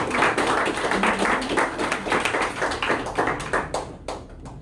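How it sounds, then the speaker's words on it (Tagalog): A church congregation claps for God during a worship service, brisk irregular handclaps close by, with no speech over them. "Pumalakpak sa Diyos."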